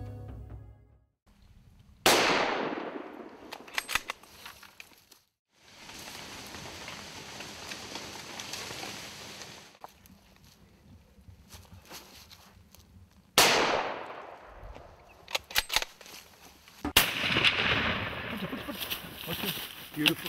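Rifle shots on a buffalo hunt outdoors: two loud, sharp reports spaced well apart, each with a fading echo, separated by stretches of quiet ambience and people speaking.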